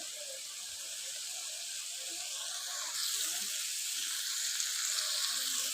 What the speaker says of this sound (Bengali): বেগুন মাছ একটু ভাজা হালকাভাবে নিতে হয়